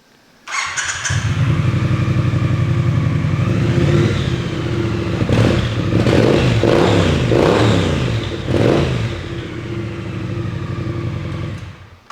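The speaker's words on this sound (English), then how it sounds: "I think hers has aftermarket pipes or something, but it sounds good" A motorcycle fitted with aftermarket exhaust pipes starts with a sharp crank and catches, then settles into a loud, steady idle up close, with a few brief revs that rise and fall.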